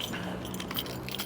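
A bunch of keys jangles briefly and close by, a short metallic clinking rattle heard on its own.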